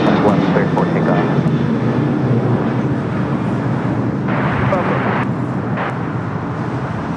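An airplane takes off from runway 25 left at LAX, a loud continuous engine roar filling the clip from start to finish.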